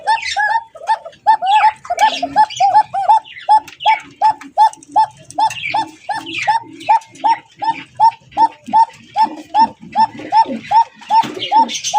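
Giribaz pigeons coo in a steady repeating rhythm, close and loud, with a few other birds calling in the background.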